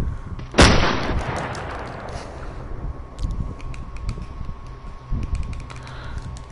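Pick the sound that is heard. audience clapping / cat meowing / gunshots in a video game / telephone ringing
gunshots in a video game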